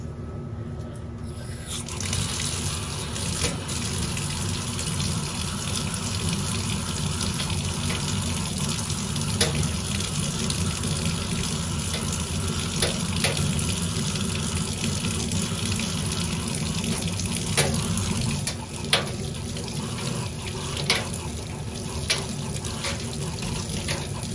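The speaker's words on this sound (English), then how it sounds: "all I do is give it another rinse, and I give it another wash with the same CJ's flux remover just to get all of the excess patina off" A stained glass piece gets rinsed under a running tap at a sink, a steady gushing stream of water continuing throughout with small splashes and clinks as the glass is handled.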